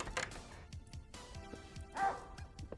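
A dog in a video game barks a few times in short bursts, with a higher yip near the end, set against a quiet background of soft game ambience.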